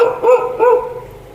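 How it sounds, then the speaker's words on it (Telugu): A dog barks twice in quick succession, loud and close, the second bark trailing off into quiet. "ఇదేంటి కుక్క వస్తుంది"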